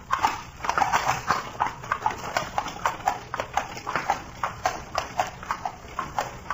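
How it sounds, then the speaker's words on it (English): Horses pulling a carriage clop along steadily, a brisk rhythmic run of hoofbeats close by, with little else around them. "Perhaps when you have gentle horses."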